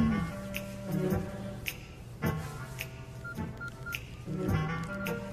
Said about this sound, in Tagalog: Ringtone ko yun.